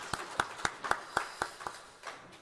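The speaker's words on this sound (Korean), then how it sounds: "하나님께 영광의 박수 올려드리겠습니다" Applause at a Korean church's Palm Sunday service comes as about eight faint, evenly spaced claps that soften and trail off at the end.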